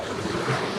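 Wind buffets a cloudy, windy stretch of the Western Australian south coast while surf washes steadily below, a continuous broadband roar with a brief swell midway and no voices.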